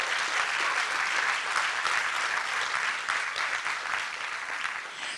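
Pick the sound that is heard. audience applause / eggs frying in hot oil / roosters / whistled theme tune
audience applause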